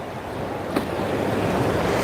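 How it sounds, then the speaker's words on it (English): Ocean surf breaks at a surf competition in Hawaii, heard as a steady, full roar of waves mixed with wind buffeting the microphone. "look at those waves, how they just came up."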